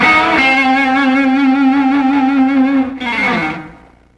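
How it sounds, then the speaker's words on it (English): Electric guitar on a Fender Telecaster played through the neck pickup with thick, saturated distortion: a sustained, loud note held with wide soulful vibrato, then a bend into a second note that fades out. "a neck pickup sound, real thick saturated distortion, and real soulful vibrato"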